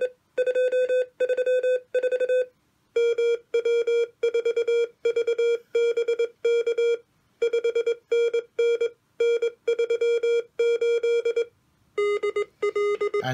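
A uCPO code practice oscillator, the older MK3 version keyed by a straight key, sends clean, steady Morse code tones in bursts of short and long beeps with varying speed and short pauses, loud and alone.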